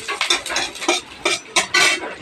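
Vegetables get stirred in a pan with red spice paste, a utensil scraping and clattering in quick irregular bursts against the metal, close and alone with no talk.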